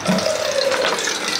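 Hot water pouring steadily into a container, a continuous close splashing and filling rush with no pauses.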